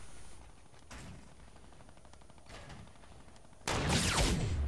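Gunfire in Fortnite, including a six-shooter revolver and sniper rifle: a couple of sharp isolated shots early on, then a loud, dense burst of firing toward the end, with no talking.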